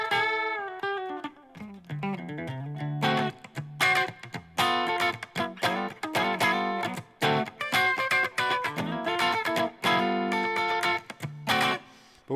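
Electric guitar with Telecaster-style tones, played through effects with light distortion, a steady run of strummed chords and picked notes, loud and close with no voices.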